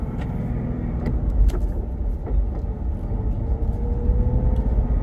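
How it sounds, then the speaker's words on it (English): A Ford Mustang GT with an Armytrix exhaust in quiet mode rumbles low and muted while driving, with a steady hum and faint transmission whine, no loud exhaust. "Obviously you can hear the transmission."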